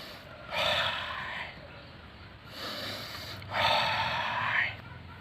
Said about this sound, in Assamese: এতিয়া ধৰক মই কিমান সময় যেনিবা উশাহটো ধৰি ৰাখিব পাৰোঁ, এতিয়া মই কৰি দেখুৱাইছোঁ।